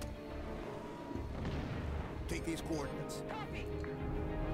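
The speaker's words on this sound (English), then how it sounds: "I'm just going to help out with the railgun right here" A railgun fires in Halo 5: Guardians, a booming blast set among dense game noise and shooting, with rising whines and sharp bursts through the later part.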